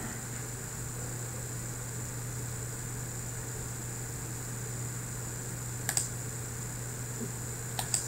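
A few sharp key clicks of a keyboard shortcut being typed on a computer keyboard, two brief clusters near the end, over a steady fan hum and hiss with no talking.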